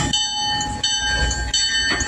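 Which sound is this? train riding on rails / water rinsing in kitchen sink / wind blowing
train riding on rails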